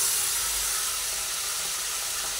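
Fried pointed gourds are tipped into spiced masala in a hot pan, giving a continuous, close hiss of sizzling oil with no voices.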